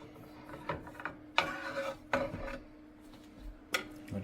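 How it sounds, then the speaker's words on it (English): A knife slicing through a piece of sweetbread, heard as a few separate rasping, scraping strokes with soft knocks against the board, close and fairly quiet, no talking. "Let's cut a slice."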